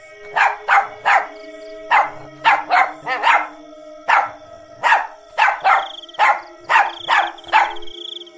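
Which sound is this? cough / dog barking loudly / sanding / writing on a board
dog barking loudly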